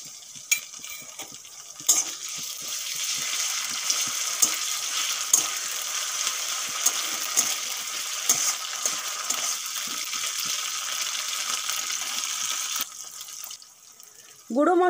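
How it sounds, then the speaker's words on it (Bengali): Ginger, garlic and green chili paste frying with fried onions for an egg curry gives off a steady hiss and sizzle, with light clinks and stirring scrapes of a spoon against the pan. "পেঁয়াজগুলো ভেজে নিয়েছি। এখন দিয়ে দেব আদা রসুন কাঁচা লঙ্কা বাটা"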